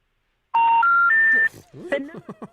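Three rising steady tones of a telephone intercept signal for a disconnected number, loud and alone, followed by people talking.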